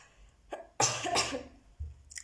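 A single rough cough, close and fairly loud, followed by a short throat-clearing grunt and a faint breathy tail.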